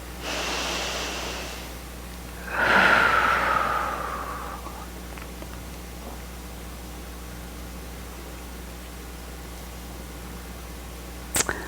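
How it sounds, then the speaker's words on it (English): Slow, deep breaths drawn in and released, close and breathy, two long airy swells in the first few seconds followed by quiet room tone and a faint click at the end. "Let's breathe."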